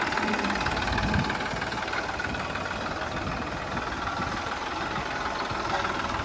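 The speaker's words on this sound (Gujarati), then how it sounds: "આવી ગયો છે ટ્રેક્ટર આપણે" A tractor engine idles steadily on a farm plot, a continuous, even, moderately loud rumble with no talking.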